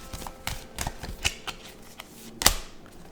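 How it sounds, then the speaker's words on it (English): Tarot cards being shuffled by hand, a quick irregular run of crisp snapping clicks close to the microphone, ending in a louder riffle near the finish with no talking. "That's why we are shuffling these particular cards"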